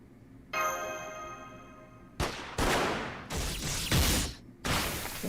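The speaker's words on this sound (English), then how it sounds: "those gunshots" Gunfire from the Fate/Grand Order video game: a tonal ringing hum gives way to several loud, sharp bursts of shots, each followed by a short decaying rumble, coming in separate volleys.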